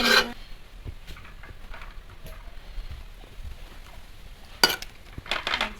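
A covered pot of chicken biryani rice is shaken with its lid on, giving short rasping and clinking metal bursts, loudest near the start and end, with quiet gaps between.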